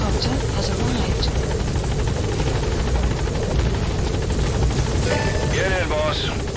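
Support helicopter hovering at the landing zone in a tactical video game, a loud steady rotor drone filling the whole clip, with faint game voices and effects breaking in near the end.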